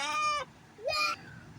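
Two short clucking calls from a rooster, close and clear, separated by a brief pause, with a faint voice-like squeak between them.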